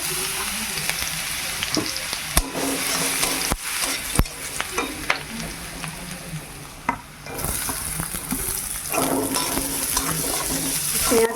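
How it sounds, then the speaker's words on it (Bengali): Garlic, ginger and green chilli frying and being stirred in a pan, a steady loud sizzle with scraping stir strokes and occasional clinks, no talking. "এগুলো হালকা করে একটু ভেজে নেব আগে রসুন কুচিটা দেবো"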